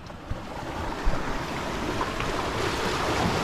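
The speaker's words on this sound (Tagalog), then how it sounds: "inaabot ng alon to, himahampas mga alon dito" Ocean waves at low tide surging and slapping against the rocky shore, a steady wash of surf with a couple of soft thumps and some wind buffeting, no voices.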